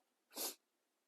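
A single short, sharp sneeze bursts out of quiet surroundings, close and clear, with silence before and after.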